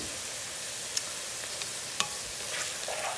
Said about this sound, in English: Stir it up. Stirring nicely.